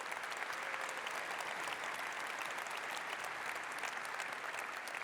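Steady, dense applause from a large conference keynote audience, evenly sustained at moderate distance with no break and no voices on top.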